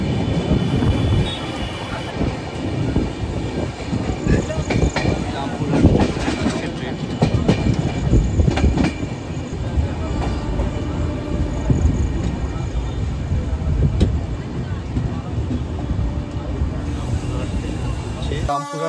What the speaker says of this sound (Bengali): আমাদের ট্রেন হাওড়া থেকে মোটামুটি তার গন্তব্যে 4টি স্টেশন পার করে চলে গেছে।